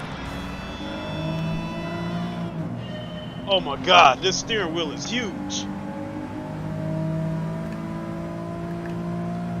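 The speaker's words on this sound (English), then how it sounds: "Start the engine." Porsche 964 engine in Gran Turismo 7, played in VR, holding a steady synthetic idle drone throughout, with someone talking briefly over it in the middle.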